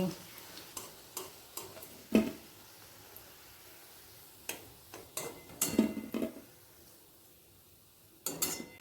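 Fish roe fritters fry quietly in a pan while a spatula clinks and scrapes against it in irregular bursts.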